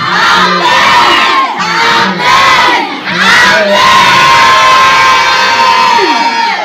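A church congregation cheers and shouts together, loud and sustained, with overlapping voices, whoops and cries that surge and dip in waves.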